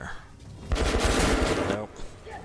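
Burst of automatic gunfire in the post-apocalyptic shooter Metro, a dense rattling volley lasting about a second over steady game ambience.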